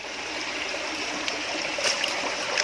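Stream water pours steadily into the intake of a homemade water system, a continuous broadband rush with bright splashy trickling on top, close and fairly loud with no voices.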